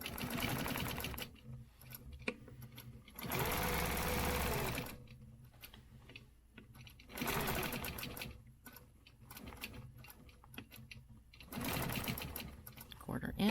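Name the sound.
sewing machine stitching along a stencil line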